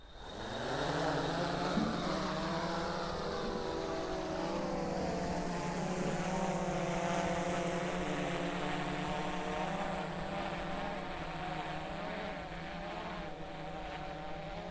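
A Splash Drone FD1 hovers in the rain during drone fishing, its propellers giving a loud, continuous buzzing whine that rises in pitch at takeoff and then holds steady, close and alone.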